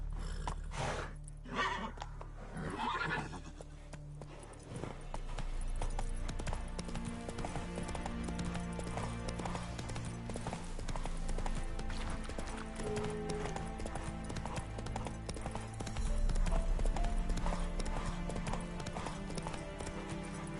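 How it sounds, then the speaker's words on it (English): Galloping horse hooves and neighing in The Witcher 3 video game, a steady clip-clop rhythm with whinnies over a game soundscape, continuous and fairly loud, heard alone. "Whoa there, Roach."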